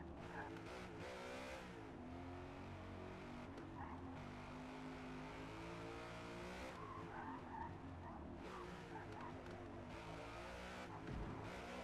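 Race car braking and skidding in Forza Motorsport, with sustained tire squeal and screeching over a revving engine, intermittent and fairly loud throughout.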